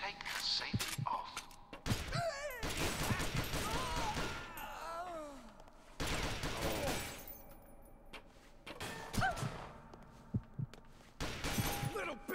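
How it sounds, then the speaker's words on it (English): Gunfire in the video game Perfect Dark Zero, bursts of shots and impacts mixed with game effects and music, with someone talking over the action. "Little bitch is shooting at us!"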